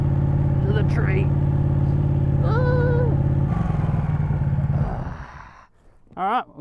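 A Ducati Panigale motorcycle is ridden off-road through rough bush, its engine a steady, close, low-pitched drone with a brief rev before it fades away near the end.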